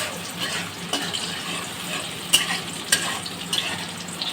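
Onion and green chili fry in a pan for a cabbage stir-fry with chicken gizzard and liver, giving a steady soft sizzle broken by a few sharp spoon clacks against the pan.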